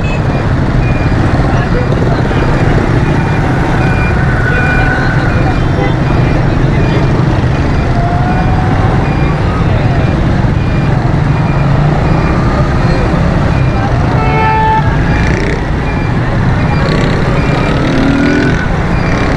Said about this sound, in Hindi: तो यहाँ पे बहुत ज़्यादा ट्रैफिक जाम होता है।